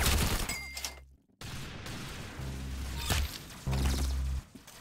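Video game gunfire from an arsenal match, with several bursts of sharp, loud shots separated by short gaps and one abrupt silent dropout, and no talk during the firing.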